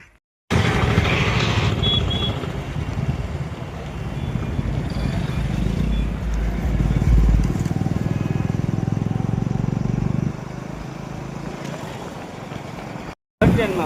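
An old tractor engine runs steadily, a continuous low rumble that holds loud for most of the stretch before dropping slightly near the end, with voices talking over it.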